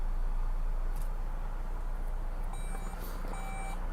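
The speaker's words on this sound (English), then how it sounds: "So you hear that, the beeping?" Reverse parking sensor of a 2012 Jeep Grand Cherokee Overland 4WD beeping in short repeated tones over a steady low engine hum, starting about midway and continuing in a regular pattern while backing up.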